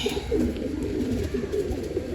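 Pet pigeons cooing close by in a loft, a steady low throaty burble running continuously with overlapping coos.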